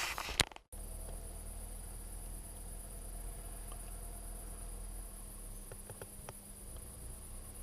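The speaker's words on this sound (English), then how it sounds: "The noise of crickets" Crickets chirping at night in a rural village along the Camino de Santiago in Spain: a steady, high, continuous chirring drone, faint and even throughout, with a short thump at the start and a few soft clicks later.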